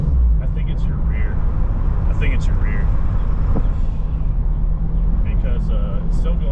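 A car with a broken rear differential drives and shifts gears, giving a steady low drivetrain and road drone heard from inside the cabin, with people talking over it.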